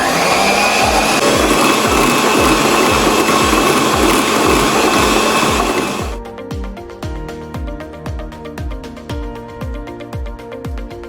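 Electric mixer beating whipping cream for a no-bake mango cheesecake: a loud steady motor whir with a rhythmic churning pulse, which drops abruptly to a quieter, thinner whine partway through.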